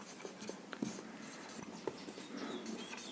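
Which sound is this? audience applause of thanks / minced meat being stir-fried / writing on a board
writing on a board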